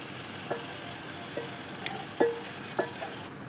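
Prawns hitting a pan of ginger-garlic-tomato paste, giving a faint steady sizzle with a few soft sharp clicks and scrapes spaced through it.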